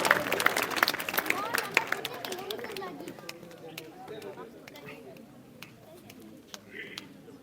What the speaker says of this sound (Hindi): दोनों बच्चों ने जोरदार तालियां